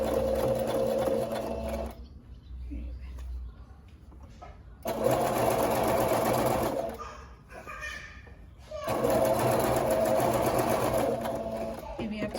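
A Brother PE800 machine sewing a diaper cover runs in three loud mechanical bursts of rapid stitching, with quieter pauses between them as the needle is set down and the fabric is adjusted for back stitching.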